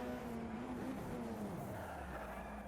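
A car sliding under a yanked handbrake in the Automobilista 2 racing game, its engine note sweeping down as the tyres skid, steady and fairly loud with no talk over it.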